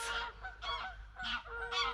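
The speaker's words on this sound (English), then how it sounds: "Geese going all every direction." A flock of geese honking in springtime outdoors, loud repeated calls coming in several overlapping bursts across the whole stretch with no talk over them.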